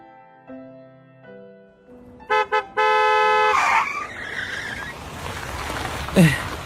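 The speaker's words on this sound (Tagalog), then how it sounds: "biglang may malakas na busina" A loud car horn blares in two short bursts followed by a long sustained blast, over a rumbling street scene, ending with a sharp screech.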